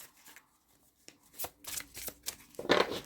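Tarot cards are shuffled by hand close up, a series of quick papery riffles and taps building to a louder final riffle.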